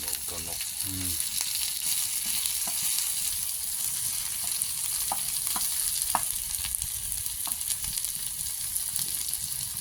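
Termites sizzling and popping as they pan-fry in a hot tawa, a steady crackling hiss with scattered sharp pops and a few stirring scrapes, close up.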